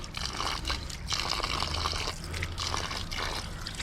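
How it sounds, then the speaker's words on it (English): Water from an outdoor water barrel splashes and trickles as hands are rinsed, a steady close pouring wash broken by brief pauses, with no talking. "Best thing about having a water barrel. You need to rinse your hands off outside."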